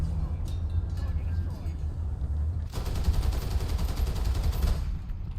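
A 105mm tank cannon firing in the War Thunder tank game, rumbling engine and battle noise with sharp bursts of gunfire, a dense, loud stretch of shots in the latter half, under the noise of voices.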